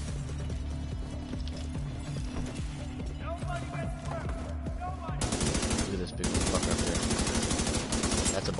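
Automatic gunfire in The Division 2 during a mission, with a dense rapid burst of shots building louder in the second half over steady game sound, while players talk throughout.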